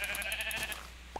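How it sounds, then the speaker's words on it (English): A sheep in the Minecraft video game gives a single short bleat, close and fairly clear, with a faint click at the end. "Ooh, sheep."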